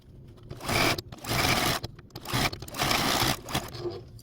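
A sewing machine stitches quilt applique in several short close bursts of rapid whirring, each separated by brief pauses, ending with a quick back stitch.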